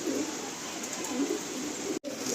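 Pigeons kept in a loft coo softly in low, repeated murmurs, faint and close, with a brief dropout near the end.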